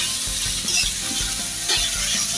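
Chopped onion softening in hot oil over a medium gas flame, a steady close sizzle with soft rhythmic stirring scrapes throughout, no voices.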